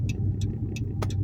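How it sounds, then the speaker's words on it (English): A car passes through an intersection with a steady close engine rumble, joined by several short hissy bursts of tyre or passing-vehicle noise. "But there's cars coming here."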